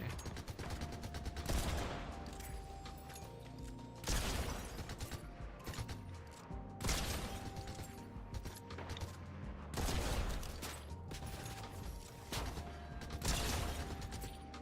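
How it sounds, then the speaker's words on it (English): Bursts of gunfire in a Fortnite match, several clustered volleys of shots returning every few seconds over a steady game soundscape with mechanical clicks and clatter. "Someone's shooting me."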